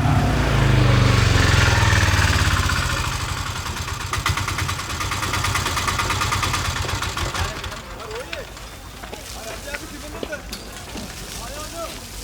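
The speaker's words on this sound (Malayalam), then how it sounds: "ഓട്ടോറിക്ഷയുടെ ശബ്ദം കേട്ടപ്പോൾ തന്നെ കയറി വിളിച്ചതാ" An autorickshaw engine idles steadily with a low rumble through the first half, then fades under background sounds and voices as people talk nearby.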